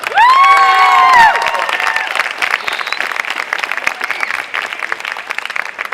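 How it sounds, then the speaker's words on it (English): A youth camp audience in Los Angeles applauds a guest speaker, opening with loud high-pitched cheers and shouts over clapping, then settling into steady crisp applause from a large crowd. "One more round of applause for Nishika."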